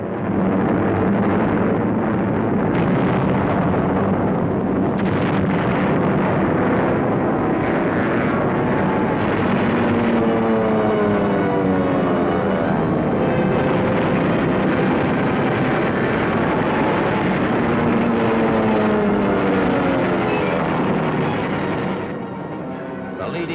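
B-29 bomber engines in a loud, continuous propeller drone with wavering pitch that swells and shifts throughout, filling the whole stretch.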